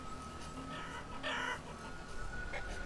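Chickens cluck faintly in the village-building game Banished, their soft calls sitting under a steady ambient game soundscape with no talking.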